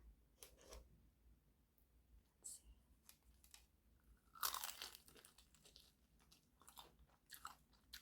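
Crunchy bites and chewing on Church's fried chicken come in close, irregular bursts at a quiet level, with sharper crackling crunches at intervals and no talking.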